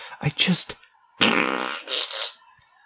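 A comic fart sound effect from a Zootopia fan-made courtroom video game comes in two loud, close bursts, a short sputtering one followed by a longer drawn-out blast.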